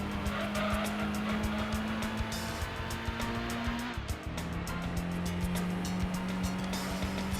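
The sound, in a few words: race car engine and braking in Gran Turismo 2 video game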